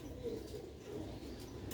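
Rooftop pigeons in Sialkot cooing, low soft throaty coos that repeat quietly against a steady background hum.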